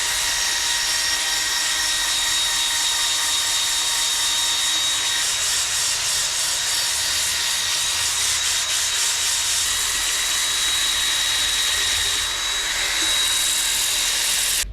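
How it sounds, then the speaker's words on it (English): A turned wood bowl is sanded on a spinning lathe up to 320 grit, giving a steady, loud, continuous hissing rub with a high motor whine underneath, unbroken throughout. "we now have that sanded up to 320 grit all the way around"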